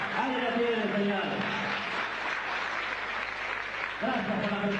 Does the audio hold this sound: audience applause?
yes